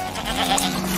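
A goat bleats in an animated film scene, a brief, steady cry heard alone over dense background sound.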